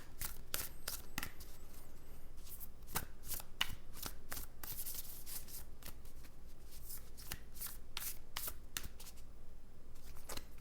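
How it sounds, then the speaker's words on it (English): Tarot cards are shuffled by hand in quick riffling bursts, close and crisp, repeating in an uneven rhythm against a quiet room. "while I shuffle, let's just close our eyes and tune in to Spirit"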